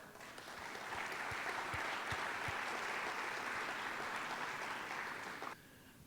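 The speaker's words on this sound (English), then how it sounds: "let's give a round of applause for all the family members here today" An audience at a high school athletics college commitment ceremony applauds family members, a full, sustained round of clapping that swells quickly, holds for several seconds, then cuts off.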